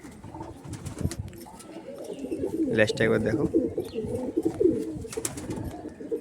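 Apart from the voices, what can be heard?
pigeons cooing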